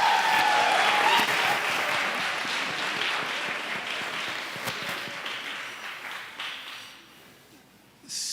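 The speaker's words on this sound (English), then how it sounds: "let's give America a round of applause" A lecture audience at a Constitution Day event breaks into sustained applause, dense clapping that starts strong and gradually fades over several seconds, with a brief burst of sound at the very end.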